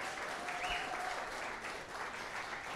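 An audience bursts into sustained, even applause at a Boys & Girls Clubs annual recognition event, a thick wash of clapping filling the room.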